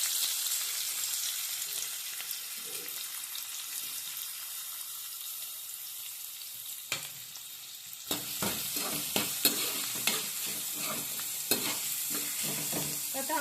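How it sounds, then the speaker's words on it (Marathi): Onions and curry leaves fry over high heat in a pan with a steady bright sizzle, and from midway a spoon stirs them with a run of clear scraping knocks against the pan. "कढीपत्ता थोडासा फ्राय झाला की त्याच्यात लगेच आपण कांदा टाकूया"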